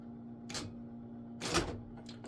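An IBM Selectric Correcting II electric typewriter runs under a steady motor hum, with two short mechanical bursts of its express carriage return, the second longer and louder.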